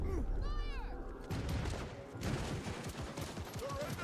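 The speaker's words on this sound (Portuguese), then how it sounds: "Com uma trocação de tiros intensa" Intense exchange of gunfire in Cyberpunk as police cars keep arriving, rapid bursts of shots crackling close and loud in dense, overlapping volleys with game effects, and a voice briefly heard amid the firefight.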